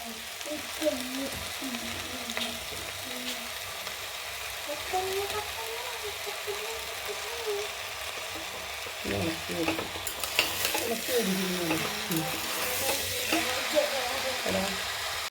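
Beef is added to a frying pan for a stew and sizzles with steady crackling and stirring scrapes, building louder toward the end, while voices talk intermittently in the background.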